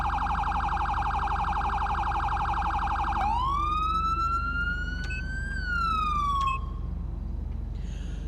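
A police siren in GTA V with the LSPDFR ELS mod cycles tones: a rapid yelp, then a rising wail that climbs, holds, and falls, with short bursts cutting in, loud and close throughout.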